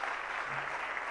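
An audience claps hard and steadily at a religious discourse gathering in Agra, a dense, even wash of many hands close by with no break.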